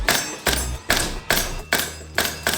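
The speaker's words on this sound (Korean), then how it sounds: "탄창을 삽입하고 장전 손잡이를 당겼다가 놓아서 놀이쇠를 전진시키면 챔버에 비비탄이 장전되고 격발 준비가 완료됩니다." An HK416 gas-blowback airsoft rifle being handled: a magazine seated and the charging handle pulled and let go, giving about six sharp, close mechanical clacks and thumps at a steady, even pace.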